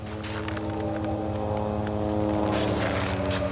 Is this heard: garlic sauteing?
no